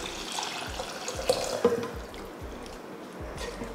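Tamarind water pours and splashes into a pan in a steady trickle with a few louder gurgles, close by and without any voices.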